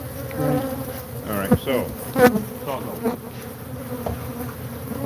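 A colony of bees inside a house wall gives off a steady, dense buzz throughout, close and continuous, while a person speaks briefly over it.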